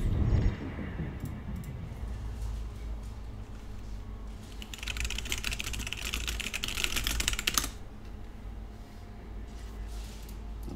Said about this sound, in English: Although it would be nice to not have to hear my typing.